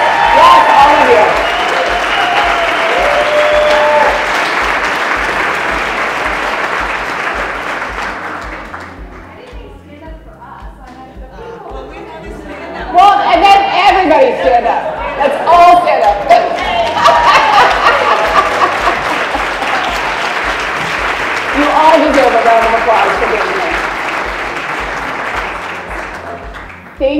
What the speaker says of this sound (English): Stand up for a well-deserved round of applause.